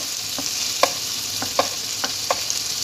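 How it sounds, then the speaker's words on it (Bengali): Prawns fry lightly in a pan for prawn pulao, a constant soft sizzle broken by a handful of evenly spaced spoon clinks and scrapes against the pan. "হালকা ভাজবো, প্রন বেশি ফ্রাই করবো না।"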